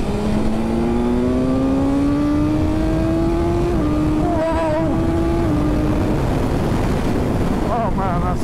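A fast motorcycle accelerates hard on a rough Spanish road near Jerez, its engine pitch climbing steadily through the gears under constant loud wind rush at the microphone.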